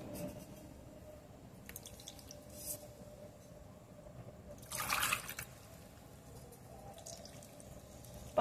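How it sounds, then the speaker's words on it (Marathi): Water from a mixer jar is poured into mixed lentil dough for sun-dried lentil wadis. It makes a short, soft splash near the middle amid faint drips in a quiet kitchen. "आता या मिक्सरच्या पॉटमधलंच संपूर्ण पाणी टाकून आपल्याला याला छान मळून घ्यायचं आहे"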